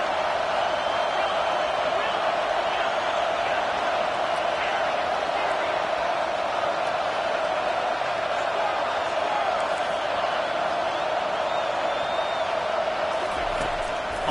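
A football stadium crowd roars steadily as the home fans try to keep the opponents pinned deep in their own end, a dense, continuous wall of cheering and noise that holds at a loud level throughout.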